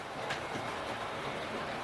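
A Bachmann GWR Small Prairie model locomotive runs on track in Great Western green, giving a steady, even rolling hum and faint rail clatter, close and continuous with no talk.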